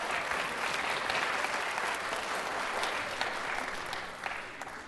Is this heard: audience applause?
yes